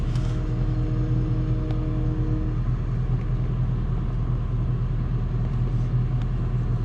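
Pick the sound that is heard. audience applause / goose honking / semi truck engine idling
semi truck engine idling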